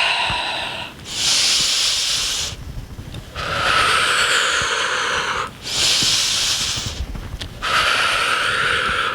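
Deep breaths during a yoga flow: loud, close, airy inhales and exhales alternate in a steady rhythm, about four long breaths in a row with nothing else heard.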